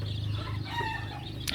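Broiler chicks brought by road from Kushtia to a farm cheep and chirp steadily in a dense, continuous chorus, close by, with a brief louder burst near the end.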